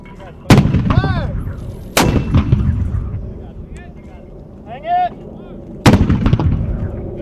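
U.S. Army mortar firing in Afghanistan: three loud, close blasts spaced several seconds apart, each with a booming decay, while soldiers shout commands between shots.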